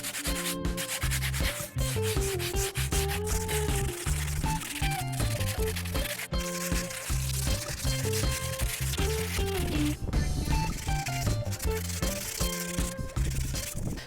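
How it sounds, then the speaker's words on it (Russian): A floor is sanded by hand with sandpaper during the renovation of an old house, with steady rhythmic rubbing strokes close up, heard under background music. "Поэтому я взял вот такую наждачку. Также вооружился очками, чтобы в глаза сильно не летело. И нужно сейчас это все зашлифовать красивенько."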